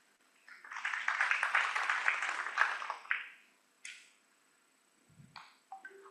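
An audience at a global health symposium applauds as the session chair comes onstage, a burst of clapping swelling quickly and fading after about two seconds, followed by scattered pings and a few faint noises.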